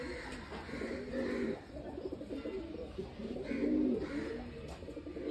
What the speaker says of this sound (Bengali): কত পায়রা।